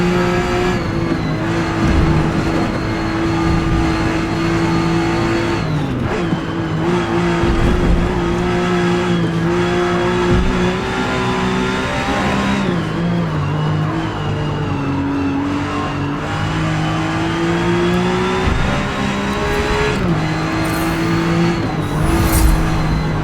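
A rear-engined race car in Forza Motorsport, with a loud, continuous engine drone that rises and falls through gear changes and throttle lifts, a high whine sitting above the roar and brief tyre squeal as it corners.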